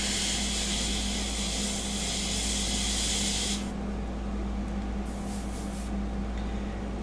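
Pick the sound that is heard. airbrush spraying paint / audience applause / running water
airbrush spraying paint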